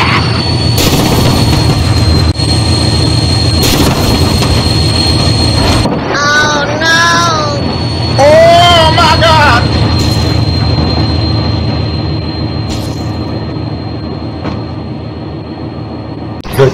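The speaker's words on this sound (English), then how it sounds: "Oh my God, train!" A train rolls past loudly in BeamNG Drive, a continuous heavy rumble with sharp wheel squeals and a horn-like tone sweeping through the middle, fading slightly toward the end.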